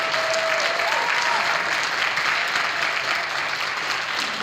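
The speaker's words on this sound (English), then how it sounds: "So I want to give them a round of applause because they're going to the Worlds this year." An audience applauds Irish dancers with steady, dense clapping that fills the whole stretch evenly, a continuous crowd ovation without pauses.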